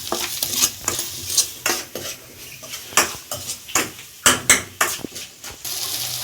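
Potatoes are stirred with turmeric and chili powder in a pan over low heat, a steady series of scraping, clattering spoon strokes against the metal over a faint sizzle, close and fairly loud.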